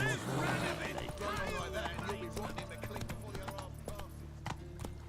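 Horse hooves clip-clop in a quick gallop from Roach, the horse in The Witcher 3: Wild Hunt, under a voice and a sustained musical drone, with sharp hoof strikes standing out toward the end.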